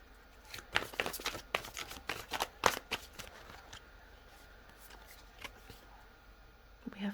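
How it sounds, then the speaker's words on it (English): Tarot cards being shuffled in quick riffling bursts, crisp papery flutters clustered early, then sparser taps and slides, close and fairly quiet. "Just trying to shuffle."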